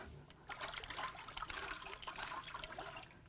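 Water trickling and dribbling out of the intake manifold of a trashed Toyota 2AR-FE 2.5L engine during a teardown, a faint, close, irregular splashing flow with no talk.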